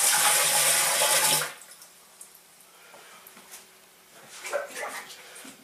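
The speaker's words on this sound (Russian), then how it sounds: "Поэтому воду наливаем только на дно." Water gushes loudly into a pot for a second or so, filling only the bottom to steam jars of home-canned pink salmon, sardine and mackerel, then cuts off, leaving faint kitchen clatter.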